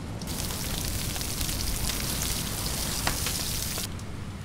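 Food sizzles steadily over a fire in the survival game Stranded Deep, a dense hissing crackle like frying that holds evenly throughout and stays fairly loud, with no talking.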